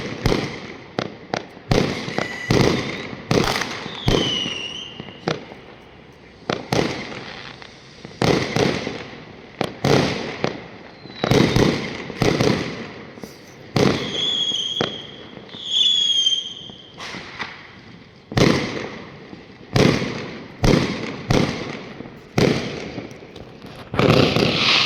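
Chinese New Year's Eve fireworks burst again and again from several directions, loud sharp bangs and crackling volleys with occasional whistling rockets, some close and some farther off, continuing throughout with no talk.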